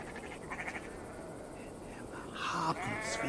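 A sheep bleats in Assassin's Creed Valhalla: a couple of short, nasal, wavering calls over steady ambient game noise, with a louder bleat near the end and nobody speaking.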